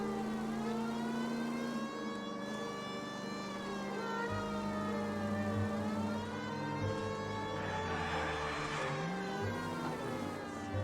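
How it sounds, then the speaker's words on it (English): Wailing police sirens in a video game rise and fall continuously over a low engine rumble, loud and sustained throughout. "Don't you hear the sirens?"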